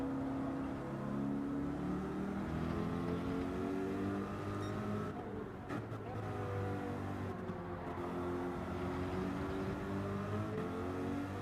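A race car in Gran Turismo 7 on the Sardegna Road Track B, its engine droning steadily and shifting pitch as it brakes and revs, loud and continuous with no talking.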